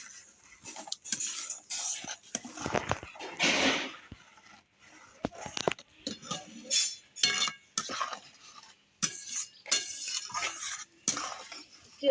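Soybean powder being stirred into a kurkure snack mixture in a bowl, with irregular clinks and scrapes of a spoon against the dish, fairly close and moderately loud, broken by short pauses.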